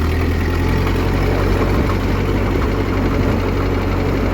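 A car engine with a non-synchro transmission idles loud and near, a dense steady rumble with a low knocking pulse and constant vibration running throughout.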